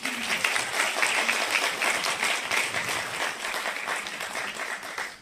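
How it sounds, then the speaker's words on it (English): Dense, sustained applause fills the hall at a cinema celebration event, a steady wash of many hands clapping at once, loud and even throughout with no talking. "big clap for her"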